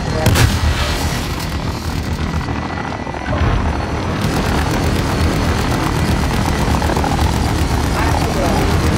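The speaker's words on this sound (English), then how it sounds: "Allied chopper gunner arriving now." An allied chopper gunner helicopter arrives in a Call of Duty match, a loud, continuous rotor roar mixed with dense gunfire and explosions that fills the whole stretch, with game voices over it.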